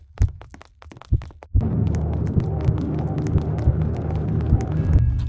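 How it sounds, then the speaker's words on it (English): A heartbeat effect from a Roblox horror game thumps in a steady rhythm over a low droning hum, the beats close and loud, with a few sparse thuds before the drone begins. "I added a heartbeat sound effect for the player, which gets faster the closer they are to the monster"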